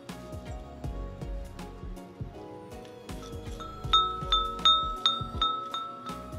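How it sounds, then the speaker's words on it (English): Metal wind chime styled after the Akatsuki from anime, tinkling over a busy background with repeated bright ringing strikes in a quick, uneven cluster near the end. "this is not a Christmas ornament, it's a wind chime"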